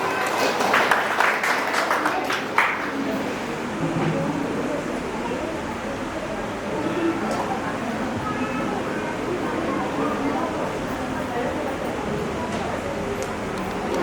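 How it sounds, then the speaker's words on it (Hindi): Sustained applause from a crowd thanking Kapoor ji at an engagement ceremony in Kabir Hall, Suva, a dense steady clatter of clapping that runs on without a break, with some voices mixed in beneath it. "हम कपूर जी को भी जोरदार तालियों से धन्यवाद देते हैं"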